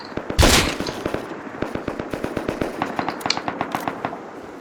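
Rapid bursts of gunfire from the video game Rust, a loud blast near the start followed by a steady run of sharp shots and crackling reports, with no voices over it.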